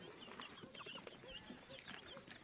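Pheasant chicks on a farm in Fergana, Uzbekistan give faint, high, scattered peeps and chirps over a soft, steady background hum, with no talking.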